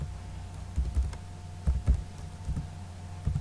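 Someone types on a computer keyboard in short clusters of soft keystrokes, fairly quiet and close, over a faint steady hum.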